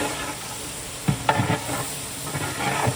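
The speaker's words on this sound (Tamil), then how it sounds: "இது எல்லாமே போட்டு தக்காளி நல்லா குழஞ்சி வர அளவுக்கு கிண்டணும்" Tomatoes with chili powder and turmeric are stirred in a pot for a large batch of mushroom biryani, soft sizzling under a few scraping spoon strokes that come in short bursts.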